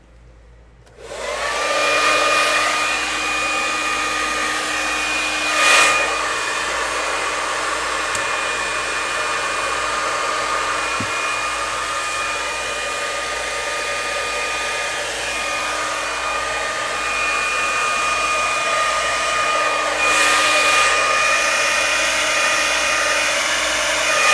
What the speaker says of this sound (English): So I'm going to turn my hair dryer on